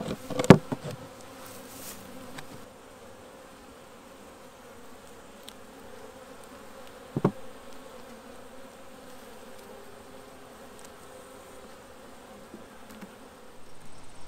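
Honey bees buzz around a beehive, Golden West queens among them, a continuous low hum close by with a few louder insects passing near the listener.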